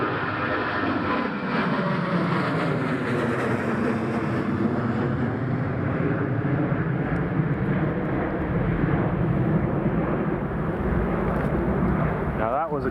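An airliner taking off at Newcastle International Airport during Storm Lilian, a sustained, broad jet roar heard from a distance with steady wind noise underneath.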